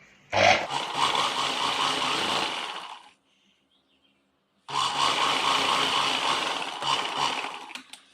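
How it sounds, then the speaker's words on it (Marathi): A sewing machine stitches a katori blouse in two fast, buzzing bursts, each about three seconds long, with a short silent pause between them. "मी डायरेक्ट ह्याला आता मशीन टीप टाकत आहे"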